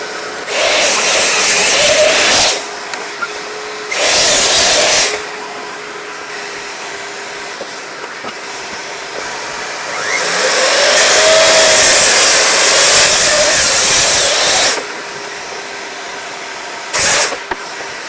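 Miter saw cutting a 45-degree angle in timber, heard as several loud bursts of high motor whine that spin up and stop, the longest lasting about four seconds, close by with no talk.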